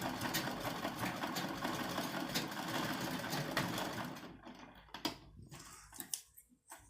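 A sewing machine stitches a peplum bustier top with a fast, steady mechanical chatter for about four seconds, then stops, leaving scattered soft clicks and handling noises.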